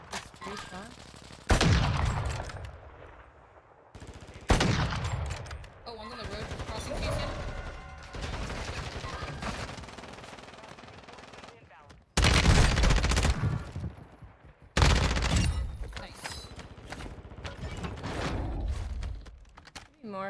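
Gunfire from the SP-X 80 sniper rifle in Warzone 2, heard as loud, sharp shots at irregular intervals amid busy game noise, with a voice talking in between.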